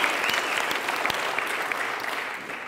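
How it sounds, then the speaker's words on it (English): An indoor audience at a talk breaks into dense, steady applause that fills the room, loud and continuous throughout. "give yourselves a round of applause"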